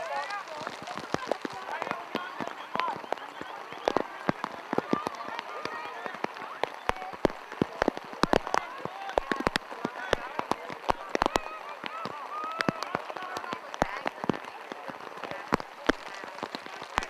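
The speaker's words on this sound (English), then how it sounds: "The sound effects of the rain on the umbrella, by the way." Rain patters densely on an umbrella at an amateur football grand final, with sharp close drops ticking throughout over a steady hiss while a commentator talks.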